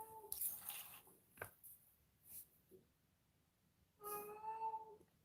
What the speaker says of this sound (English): She's a very vocal cat, especially when she's not getting attention.